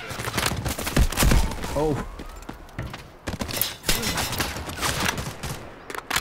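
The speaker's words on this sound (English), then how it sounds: "We got gunfire to the left too." Rapid bursts of close, sharp gunfire crack through a firefight in the shooter game Delta Force Hawk Ops, irregular volleys and single shots over the whole stretch, with a brief spoken exclamation mixed in.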